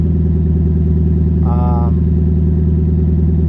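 A Toyota Tundra's straight-pipe exhaust with resonator and deleted muffler rumbles deep and steady at idle, close by, with a brief higher tone sounding partway through.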